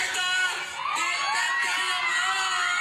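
A crowd at a movie premiere night screams and shouts excitedly, high shrieking voices overlapping in a loud, steady, close wall of cheering with a brief dip before surging again.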